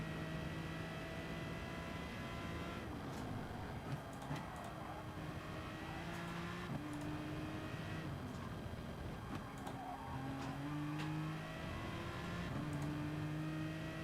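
An Aston Martin race car in GT Sport, its engine revving and shifting through gears in a steady, continuous drone with rising pitch sweeps, heard from onboard at moderate level.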